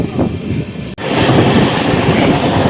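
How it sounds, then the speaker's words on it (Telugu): An Amrit Bharat Express train at cruising speed on the run toward Chengannur in Kerala produces a loud, continuous rumble and rush with wind buffeting, interrupted by a brief dropout near the one-second mark. "తిరువల్ల దాటాక మన బండి కొంచెం క్రూజింగ్ స్పీడ్ అయితే అందుకుంది."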